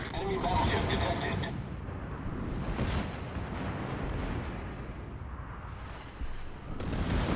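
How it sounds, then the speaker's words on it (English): Ship secondary batteries firing aboard the heavy cruiser Hipper in a naval battle game: a continuous rumbling barrage of booming reports, loud and dense, broken by a brief lull near the end. "Secondary's going off on the Hipper."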